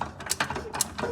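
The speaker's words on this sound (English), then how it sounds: "You're gonna tighten this nut up to 90 to 110 foot-pounds" Ratchet wrench tightening a nut to about 100 foot-pounds on a Cub Cadet XT1 Enduro LT46 riding mower, heard as several quick, close metallic clicking bursts in a short, steady rhythm with no talking.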